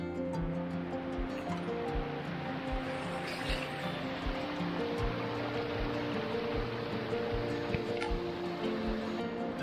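A monsoon-swollen stream near the small Anandwadi waterfall on the Neral–Matheran side rushes in a steady, close broadband wash, with faint tonal hums layered over the flow and no talk.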